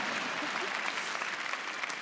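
A theatre audience at a comedy parody show gives sustained applause, a thick, even wash of many hands clapping that continues steadily throughout, with faint voices beneath.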